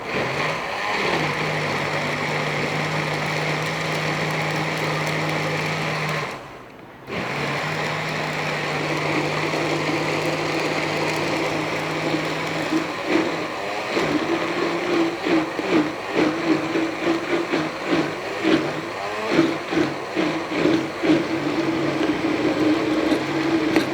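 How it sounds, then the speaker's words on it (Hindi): A kitchen blender grinds green chutney with yogurt in a steady whirring drone that cuts out briefly, then restarts with a rougher, pulsing churn as the paste thickens, loud and close with no talking. "तो अब हमने इसको अच्छे तरीके से ग्राइंड कर लेना है।"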